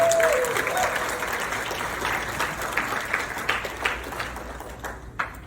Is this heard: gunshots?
no